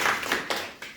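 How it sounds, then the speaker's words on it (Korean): Villagers at a town meeting with the city mayor clap briefly, a short, soft burst of scattered hand claps in a room. "박수 한번 주세요"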